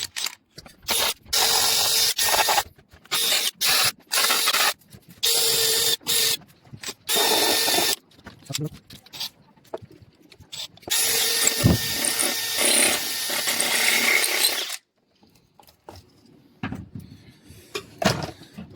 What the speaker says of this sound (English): that involves a drill and a little drum sander